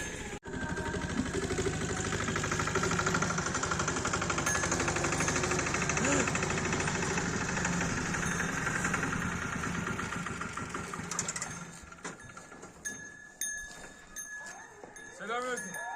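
A loud, chugging motor putters steadily for about ten seconds, then fades as voices and rustling take over.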